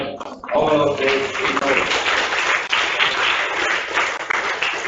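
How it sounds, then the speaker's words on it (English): Audience applause at a quiz competition, a sustained burst of loud clapping that fills the whole stretch after a brief voice at the start. "Claps for all of this."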